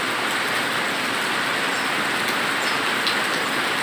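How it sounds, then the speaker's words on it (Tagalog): Heavy rain pours down in a constant, dense roar of hissing noise, loud and unbroken, with no voices. "Sobrang lakas ng ulan."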